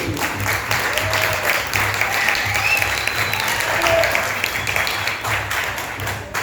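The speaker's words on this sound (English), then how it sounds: "Round of applause, please." A room full of people applauds a guest speaker at a community event, steady, moderately loud clapping with scattered voices and faint cheers mixed in across the whole stretch.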